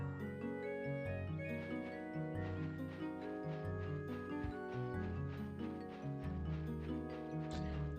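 Rhythmic clip-clop of horse hooves with a steady, galloping pace during a horse race in the PS2 game Suikoden III, set against a busy, continuous game music backdrop.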